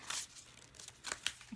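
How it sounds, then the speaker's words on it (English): Oversized oracle cards from a Starseed Oracle deck are shuffled sideways by hand, giving soft, faint papery swishes and crisp flicks in short irregular bursts, close up with no talking. "I shuffle oracle cards sideways like this because they are so gigantic."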